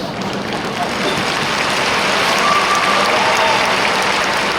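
Audience clapping during a talk by Sadhguru in Delhi, a dense, steady wash of applause from a large crowd, loud and sustained throughout with no speech on top.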